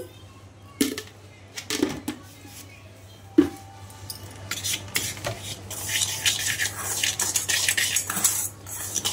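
Salt and sugar being stirred into an ash gourd filling in a metal bowl, with a few loud spoon knocks early on, then steady scraping and clinking over a low hum.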